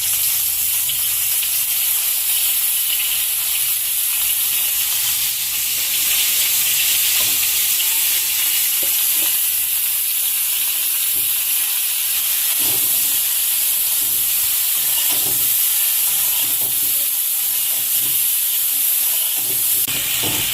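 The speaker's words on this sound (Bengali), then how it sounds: "আর বাকি তেলের মধ্যে ব্রকলিগুলোকে ভেজে নেওয়া হচ্ছে।" Broccoli pieces coated in salt and turmeric frying in oil, an intense, continuous hissing sizzle with scattered spits and occasional stirring clatter, loud and close.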